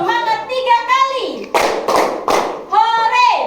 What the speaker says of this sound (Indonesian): tepuk semangat tiga kali,